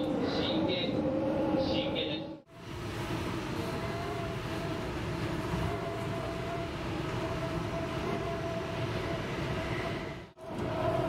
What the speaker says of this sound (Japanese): 電車は泉砂川を発車。